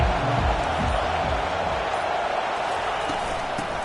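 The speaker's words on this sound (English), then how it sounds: "This crowd bringing an ear-splitting welcome to their visitors." A packed stadium crowd at an LSU versus Texas college football game roars loudly and continuously, a dense, steady wall of cheering that never drops away.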